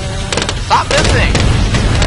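A bomb tower in Bloons Monkey City keeps firing, giving a loud, busy run of thumps and small bursts that overlap for about two seconds, mixed with other game effects.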